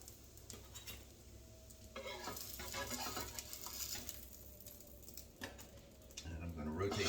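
Zucchini fritters sizzle in a frying pan with a steady crackle, while a spatula scrapes and clinks against the pan and a person talks over the cooking.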